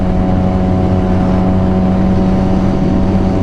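Suzuki GSXR 750 motorcycle with an aftermarket pipe and muffler, its engine running with a loud, steady exhaust drone and a low idle-like rumble, close up with no speech.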